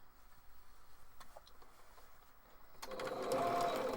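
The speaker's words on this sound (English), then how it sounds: "we're going to top stitch this one so it's laying down" Sewing machine top stitching a fabric face mask, starting after a quiet stretch of faint handling clicks and then running in a steady, close mechanical whir until the end.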